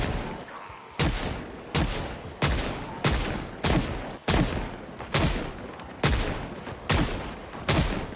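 Gunshots ring out in a zombie-filled town in a survival video game, about ten loud single shots spaced roughly a second apart, each with a sharp crack and a short decaying tail, with no speech.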